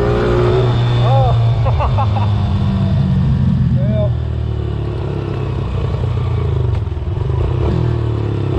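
A motorcycle engine revs during wheelie practice, its pitch rising and falling in short bursts over a loud, steady drone of engine and wind noise.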